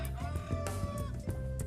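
Chickens cluck in short, repeated bursts over a steady farmyard background, fairly close.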